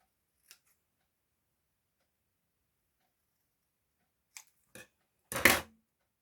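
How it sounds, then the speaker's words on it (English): Long-bladed scissors snip fabric a few times in near silence: a faint click, then three crisp cuts close together, the last longest and loudest. "Long bladed scissors are quite good for sort of getting fairly straight lines."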